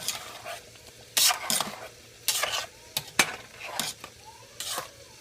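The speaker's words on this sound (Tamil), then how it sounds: "இப்போ இதை நல்லா கலரிக்கலாம்." A utensil stirs thick chicken haleem in a pot on the stove, with several separate scraping, sloshing strokes against a soft simmering background.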